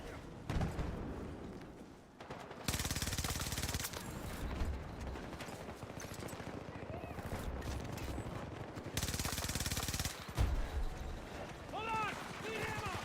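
Rapid automatic gunfire from the video game Battlefield rattles in loud bursts, broken by short pauses and mechanical clicks, while a player talks over the action.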